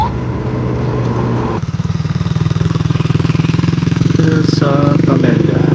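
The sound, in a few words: motorcycle passing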